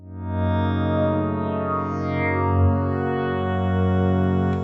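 A low, sustained Waldorf Blofeld synthesizer drone, thick and steady with buzzy, distorted overtones and a slight wavering shimmer, holding without a break.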